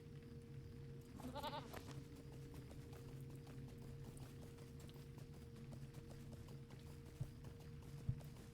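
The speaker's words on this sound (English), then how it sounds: "I could probably get on my goat for this one more often." A goat mount in the online game LOTRO gives a short bleat early on, over a steady patter of hoofbeats and a constant low ambient hum.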